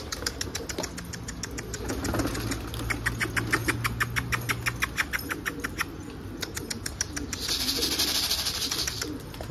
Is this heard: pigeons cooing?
yes